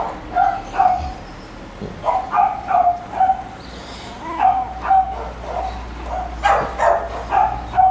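Young puppies from a breeder bark in short high yips and whimper repeatedly, close by in a fairly steady rhythm, with little talk around them.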